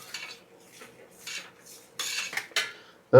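A spoon scrapes and clinks around inside a metal pot of tomato jam in several short bursts of stirring, close and fairly quiet, ending with a louder clatter.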